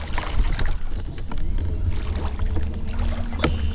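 A Minn Kota trolling motor fitted with a weedless wedge prop runs in reverse on a boat, giving a steady low churning hum with water splashes and a few sharp knocks close by.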